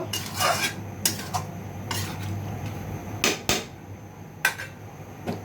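Flat beans stir-fried in a home kitchen pan for a potato and tomato curry, with a utensil scraping and clanking against the metal at irregular moments over a steady low background; no talking.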